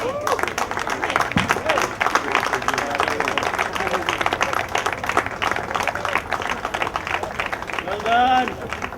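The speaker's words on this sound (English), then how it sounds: "please give him a round of applause." Crowd applause at a polo prize-giving ceremony for the RMPA Open 2016 final, a steady mass of clapping with cheers and voices mixed in, sustained and fairly loud throughout and swelling slightly near the end.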